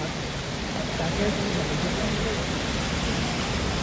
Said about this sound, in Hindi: ये ब्यूटीफुल वाटरफॉल बहुत ही शानदार वाटरफॉल है